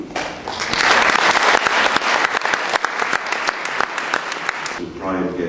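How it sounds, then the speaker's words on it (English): A presentation audience breaks into loud, dense applause, many hands clapping continuously for several seconds before it tapers off near the end. "You deserve a clap."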